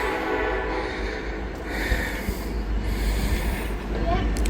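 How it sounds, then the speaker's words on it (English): An empty Norfolk Southern coal train rolls past a level crossing, giving a steady, broad rumble with faint wheel squeal that grows slightly louder toward the end. "Looks like we got an empty coal train"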